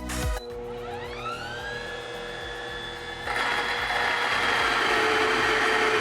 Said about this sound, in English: I'm going to go ahead and start the grinder.